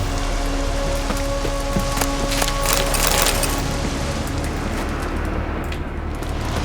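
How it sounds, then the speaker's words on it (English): Heavy rain falls in The Witcher 3, a dense, loud, steady hiss of drops on surfaces with faint tonal game sounds mixed in. "Looks like rain."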